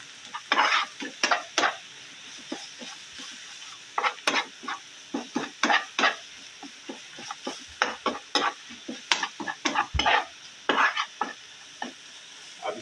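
Spices stirred into ginger and garlic frying in a pan, a soft sizzle broken by repeated scraping strokes of a spoon in an uneven rhythm, close by with no talking.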